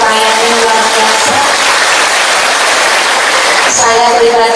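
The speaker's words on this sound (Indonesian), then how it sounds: "Tepuk tangan dulu" Women's Fatayat religious gathering audience in Temanggung claps in a dense, loud wash of applause, with a voice speaking over it at the start and end.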